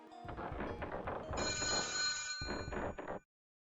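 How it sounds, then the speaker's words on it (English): An old-style telephone bell rings in rapid trilling bursts inside a Touhou horror fangame, loud and close, with a brief gap before a final burst that cuts off abruptly into silence. "we can't just ignore a ringing phone"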